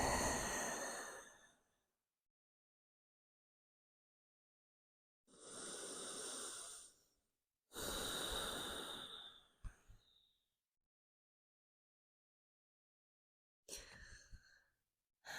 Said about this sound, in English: Full expansive breaths here.